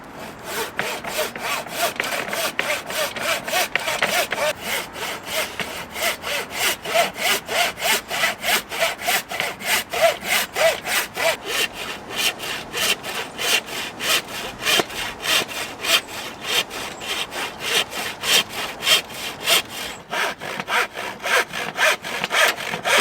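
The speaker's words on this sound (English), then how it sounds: "Just got one sort of funny cut to do, which I have to use the handsaw for" Blunt handsaw cutting damp wood during a cabin rebuild, with steady rhythmic back-and-forth strokes, close and continuous throughout, and no talking.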